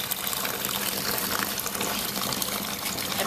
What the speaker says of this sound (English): I'm turning on the water